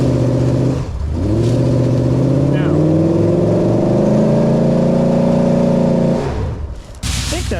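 Engine of a junkyard 1987 Bronco revving hard as its rear wheels spin against a big log, a loud sustained roar rising in pitch for several seconds, dipping briefly at first and fading out near the end, with voices talking over it.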